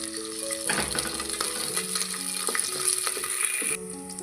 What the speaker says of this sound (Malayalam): ഒരു തണ്ട് കറിവേപ്പിലയും കൂടെ ചേർത്തിട്ട് ഇത് നമുക്ക് 1 മിനിറ്റ് ഒന്ന് വഴറ്റി കൊടുക്കാം